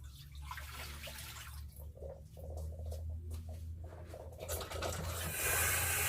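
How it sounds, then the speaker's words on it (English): Water runs and splashes into an empty bottle as it is filled and swirled for rinsing while cleaning an X-ray film processor, a close gurgling and trickle that grows louder and fuller toward the end. "fill it up with water, and just rinse this."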